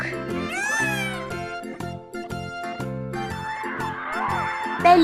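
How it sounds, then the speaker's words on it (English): A peacock lets out a loud, wailing, meow-like call near the start and fainter cries later, set against a continuous musical backing. "Peacock."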